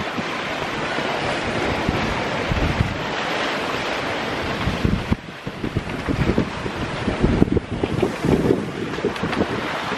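Big waves break and rush around a sailboat at sea in strong wind, a loud, continuous roar of surf and wind buffeting the microphone, with heavier crashes near the end.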